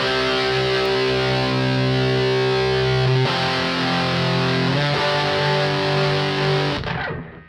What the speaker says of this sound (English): This kind of stuff sounds real good with a nice heavy distortion on your amp settings